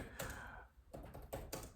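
Typing on a computer keyboard, faint clusters of quick key taps and clacks in a few short bursts separated by brief pauses, close and alone without talk.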